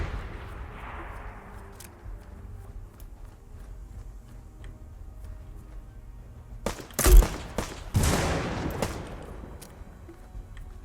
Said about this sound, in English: Try and put some grenades on that house there.